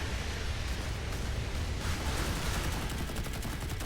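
Naval cannon in the Modern Warships game firing at a helicopter, a steady dense barrage of rapid gunfire blending into a continuous noisy roar throughout.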